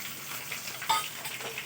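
Spices, garlic and ginger paste and onion frying in a pan for thin khichuri, a close steady sizzle with a brief stirring scrape.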